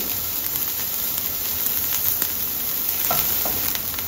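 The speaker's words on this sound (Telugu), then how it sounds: "ఇప్పుడు ఉల్లిపాయలు ఇవన్నీ పేస్ట్ కూడా వేగిపోయిందండి." Onion paste fries in a pan for an ice apple curry, a steady close hiss of sizzling oil with light stirring taps scattered through, even and fairly loud without speech.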